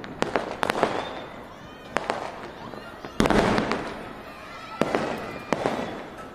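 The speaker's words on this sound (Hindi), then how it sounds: "आज़ाद मार्केट में आतिशबाजी होती हुई," Diwali fireworks and firecrackers go off in Azad Market, Delhi, in loud, irregular bangs and sharp cracks over a crackling, hissing background.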